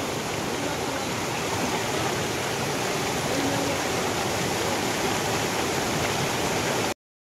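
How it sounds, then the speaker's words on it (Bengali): A forest waterfall stream near Sittong rushes in a dense, continuous roar of flowing water, loud and close, holding steady throughout before cutting off abruptly. "এই ঝর্ণা যে কোথা দিয়ে বয়ে গেছে কেউ জানে না"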